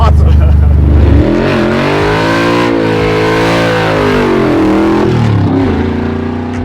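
A 1,000-horsepower Hellephant-powered Dodge Charger revs hard, a loud deep engine roar that climbs and swells, drops back, then surges again, close by and dominating throughout.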